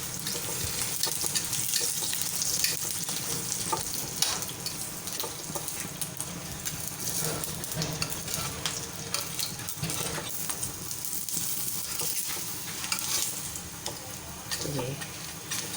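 Ghee-brushed roti cooking on a pan, a soft steady sizzle and crackle with occasional light scraping, fairly quiet and continuous without speech.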